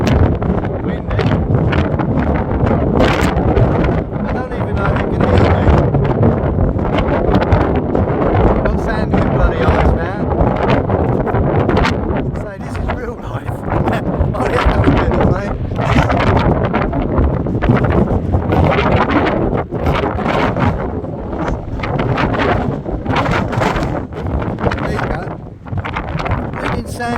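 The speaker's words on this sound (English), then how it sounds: "Windy." Strong seaside wind at Fleetwood buffets the microphone in a loud, steady roar with gusty surges throughout, nearly masking everything else.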